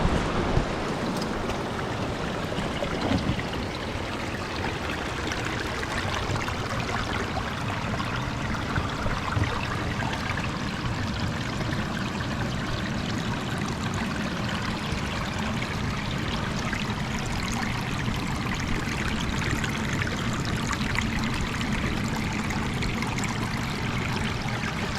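River water flowing steadily beside a bush track, a continuous broadband rushing and trickling that stays even and fairly close throughout, with no voices.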